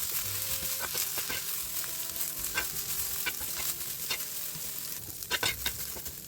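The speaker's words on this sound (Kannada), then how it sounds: "ಹೀರೆಕಾಯಿ ಸಿಪ್ಪೆಯಿಂದ ಎಲ್ಲ ನೀರು ಹೋಗೋ ತನಕ ಅದನ್ನು ಫ್ರೈ ಮಾಡ್ತಿದ್ದೇನೆ" Ridge gourd peel frying in a pan, a steady close sizzle broken by repeated scraping taps of a spatula stirring the pieces, with no talking.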